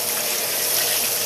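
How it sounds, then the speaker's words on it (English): Hot grease poured out of a frying pan after cooking pork for po' boys, a steady splashing liquid rush that runs unbroken and fairly loud from start to finish with no voices. "I'm going to pour out all of this grease except for just a couple of tablespoons"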